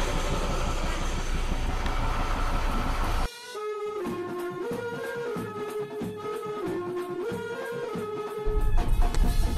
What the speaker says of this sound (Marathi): आता आपण पोहोचले तुर्बे रेल्वे स्थानक